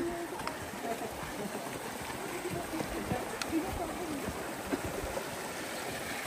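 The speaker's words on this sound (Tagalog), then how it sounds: "nakaka-relax na yung tunog dito ng ilog" A river flows near Mt. Pinatubo in a steady, rushing wash of water that stays constant and moderately close, with no distinct splashes standing out.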